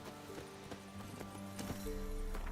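Roach the horse trots in The Witcher 3, with a quick, steady clip-clop of hooves over a soft tonal background that swells slightly near the end.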